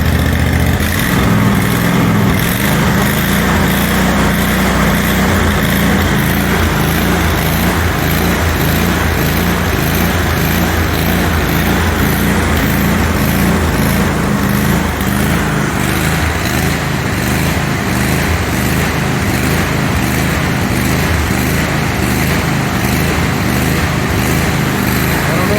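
A John Deere QuikTrak 652R EFI mower engine runs and idles loudly and steadily up close, with an even mechanical chug that holds constant throughout.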